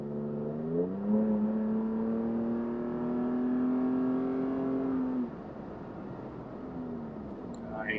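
A car engine fitted with a Pedal Monster throttle controller revs up, holds a steady elevated drone for several seconds, then drops back to a lower idle hum.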